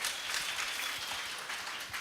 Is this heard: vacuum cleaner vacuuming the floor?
no